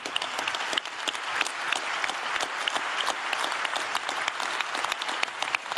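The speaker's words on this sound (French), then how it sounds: "J'en déduis que c'est le dernier applaudissement qu'on entend" An audience at a business debate applauds continuously, a dense and steady wash of many hands clapping at moderate distance, with no talking over it.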